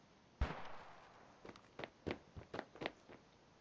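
A grenade explosion in the shooter game Standoff 2 gives a sharp burst, followed by a string of smaller popping blasts and impacts at moderate distance.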